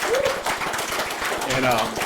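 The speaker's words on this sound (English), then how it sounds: "Let's give him another round of applause." Audience at an Alcoholics Anonymous convention giving a speaker another round of applause, a steady patter of many hands clapping with voices and cheers mixed in throughout.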